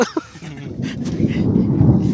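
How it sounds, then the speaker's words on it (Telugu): A dog barks a couple of times early on at night, sharp and mid-distance, then a steady rumbling noise of rain fills the rest. "ఆడేమో కుక్క బరుకుతుంది"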